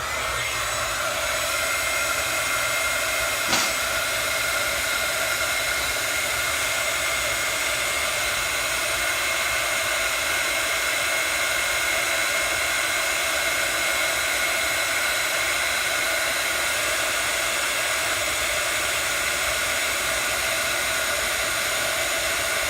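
A heat embossing tool blows hot air over a Stampin' Up! card, a steady, even whooshing hum like a small hair dryer, close and unbroken throughout with no talking.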